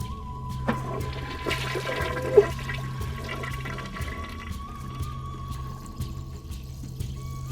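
An animated toilet flush gurgles and rushes steadily, with water pouring and refilling under a faint tone and a few light clicks, and no talking.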